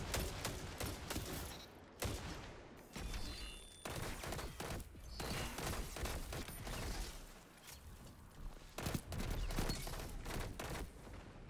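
Heavy gunfire in the video game Destiny rattles almost nonstop in loud overlapping bursts, with mechanical clanks mixed into the dense battle noise.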